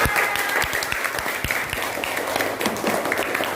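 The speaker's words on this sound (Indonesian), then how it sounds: "Nah, tepuk tangan untuk kalian semuanya" Classroom students break into applause, a dense burst of many hands clapping loudly and continuously at close range, with faint voices mixed in.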